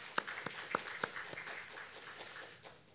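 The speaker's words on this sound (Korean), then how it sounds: "다 함께 박수로 하나님께 영광 돌리시겠습니다" A church congregation at a Wednesday prayer service claps, with a few sharp, separate claps standing out early over a soft, thin patter that fades quietly away.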